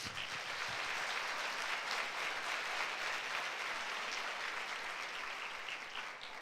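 A church congregation at a Sunday service applauds in a dense, even wash of clapping that holds steady from start to finish, slightly distant and without voices.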